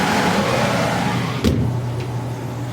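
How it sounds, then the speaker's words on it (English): Blower fan of a home air conditioning unit running, a steady loud whooshing hum with a low drone, one sharp knock midway, close by. "there's the blower. You can see it's working pretty good."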